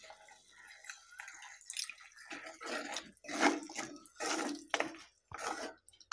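Water is poured into a pan of sardine fish curry paste in a home kitchen, giving several short splashing and dripping bursts that come and go, close and moderately loud, with no talking.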